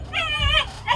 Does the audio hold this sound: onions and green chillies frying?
no